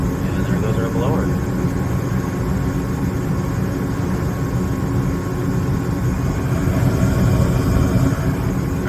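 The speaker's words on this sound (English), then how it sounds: "And there goes our blower." A gas furnace blower motor starts up and runs with a steady, continuous low hum and whir, a faint click near the start, heard up close in an HVAC setting.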